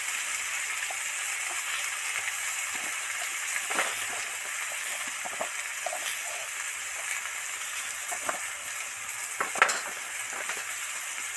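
Ground turmeric, chilli, cumin and coriander powders frying in oil for a Bengali bata fish curry, a steady soft sizzle with scattered stirring scrapes and occasional sharper pops, close and continuous, no talking.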